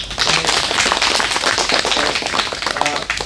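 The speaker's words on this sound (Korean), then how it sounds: "하여튼 박수로" Dense, loud applause from an audience at an agricultural lecture, a continuous wash of clapping with no pause throughout.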